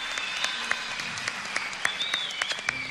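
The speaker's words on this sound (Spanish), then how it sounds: "fuerte el aplauso para Martín, el aplauso fuerte para Cuenca." A studio audience at a junior singing competition show applauds, with scattered sharp claps and crowd noise at moderate level under a faint tonal whine.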